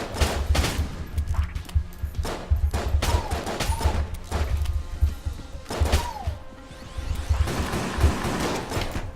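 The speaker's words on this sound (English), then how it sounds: "Oh, okay, he shot real fast. I don't know if I've seen these shotguns before, actually." Rapid enemy shotgun fire in the Enter the Gungeon game, dense repeated loud blasts in quick bursts with game sound effects throughout.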